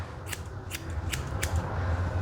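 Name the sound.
scissors cutting a Coton de Tulear dog's hair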